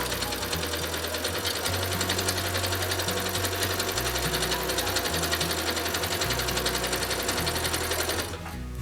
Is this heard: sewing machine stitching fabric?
yes